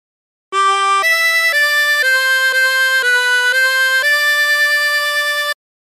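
Harmonica played without bends, blowing and drawing single notes through a phrase of My Bonnie Lies Over the Ocean: a steady run of held reedy tones stepping from pitch to pitch, loud and close, with no talking.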